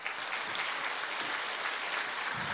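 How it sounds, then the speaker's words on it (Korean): Congregation clapping in a church service, a dense, steady wash of applause from many hands filling the room at even loudness throughout. "박수까지 치실 건 없어요."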